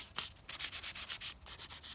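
Hand sanding a stained oak wood sculpture, a quick series of soft rhythmic rasping strokes, close and fairly faint, with no talk.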